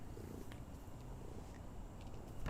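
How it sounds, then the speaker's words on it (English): A cat purrs indoors, a faint, steady low rumble that continues without break, very quiet and close, with slight background noise. "I hear the purrs"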